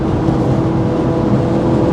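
A 210 hp Seat Leon Top Sport with the VAG 1.8T 20V turbo engine accelerating hard, a steady loud engine roar that holds throughout with no one speaking.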